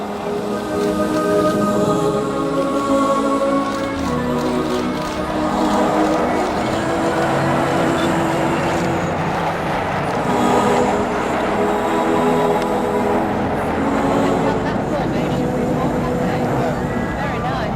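The Avro Vulcan XH558 jet bomber flies in an air display, leading other aircraft flown on its wings. A steady, heavy, broad roar rises and swells throughout, with a voice speaking over it.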